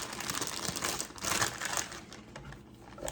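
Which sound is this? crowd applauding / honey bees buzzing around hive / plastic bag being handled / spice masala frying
plastic bag being handled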